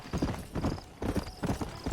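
Quick clip-clop of horse hooves in a steady galloping rhythm, close and clear, with no talking, from the video game Red Dead Redemption.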